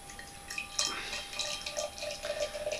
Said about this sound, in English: Let's give it a bit of a pour and find out what it's all about.